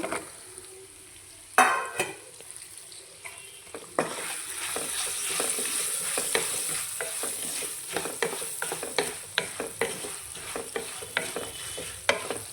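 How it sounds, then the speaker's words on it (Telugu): Green chillies are added to a sizzling pulihora tempering and stirred, producing a steady frying hiss with a sharp burst at the start and repeated scraping strokes of the spoon, close and alone. "ఫైనల్గా పచ్చిమిర్చి వేస్తున్నాను"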